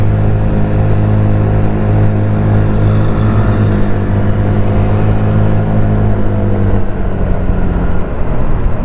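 Honda Beat scooter engine with a CVT setup, droning loud and steady on an uphill road after braking, a continuous close buzz with slight pitch shifts as it pulls away under load.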